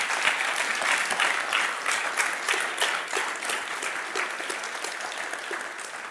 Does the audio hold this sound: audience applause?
yes